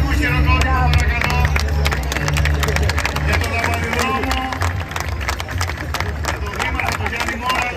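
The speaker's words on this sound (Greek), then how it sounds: "Ένα θερμό χειροκρότημα, παρακαλώ." Crowd applause and cheering at the Olympic flame torch relay in central Piraeus, a dense sustained wash of many hands clapping with crowd babble throughout, loud and close.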